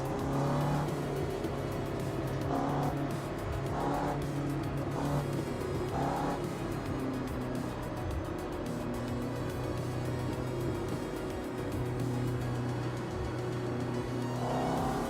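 Race car engines drone and rev in Automobilista 2, a steady mid-level hum of cars running behind a safety car under a full course yellow, with occasional rises in pitch and no speech.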